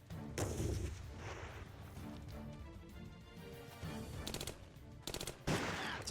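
Assault rifle fire in the video game Another War, several rapid bursts of automatic shots at moderate distance, separated by quieter gaps, with a sharp loud crack at the very end.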